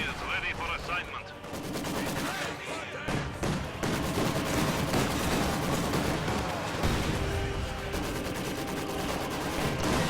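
Sustained Maxim machine gun suppression fire in a World War strategy game, dense rapid bursts layered with other gunfire and battle noise throughout, loud and continuous with some speech mixed in.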